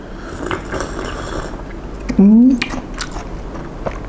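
Close, soft chewing of fresh grilled squid, with faint wet mouth sounds and a brief vocal hum of approval partway through, set against light background chatter and clinking.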